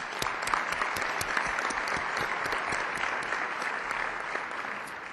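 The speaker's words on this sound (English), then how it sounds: "let's give them a big round of applause" An audience at an annual partnership meeting in a convention center claps for sponsors, a dense, steady round of applause with crisp individual claps standing out near the front.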